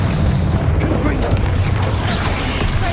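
A Confringo spell blast in Hogwarts Legacy gives a loud, rumbling fiery burst with a heavy low boom and crackling spread across the whole moment, dense and close.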